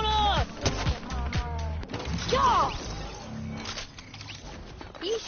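Gunfire in a video game hits a brand-new Toyota SUV, heard as a few sharp bangs and crashing impacts mixed with game noise and bursts of voice, loud and close with uneven timing.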